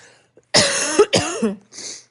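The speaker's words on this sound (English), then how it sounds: "I hope I can figure out how to like edit out all my coughs" A single harsh cough followed by a second rougher cough and a faint trailing huff, close and loud against silence.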